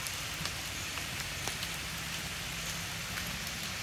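Steady rain falls outdoors, a continuous hiss of drops hitting surfaces with occasional louder individual drips, heard alone without any talk.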